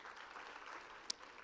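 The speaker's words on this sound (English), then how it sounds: "can we have a huge round of applause for our session that we just saw" Applause at the NDTV Yuva Conclave, a youth event, honoring the session just seen: soft, steady clapping from the audience across the whole moment, fairly faint, with one sharp louder clap standing out near the end.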